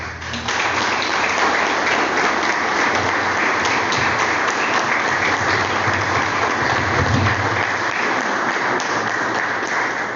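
A church congregation claps together in praise during a Pentecostal worship service, a steady, dense wash of applause that fills the room without a break.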